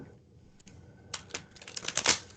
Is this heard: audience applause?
no